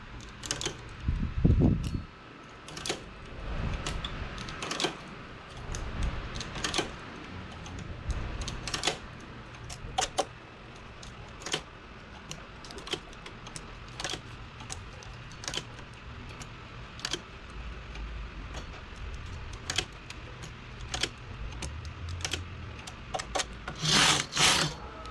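Knitting machine carriage and transfer tool moving stitches between needles while working decreases on a knitted neck scarf, giving a series of sharp clicks and clacks with light rubbing and rasping in between, near and alone.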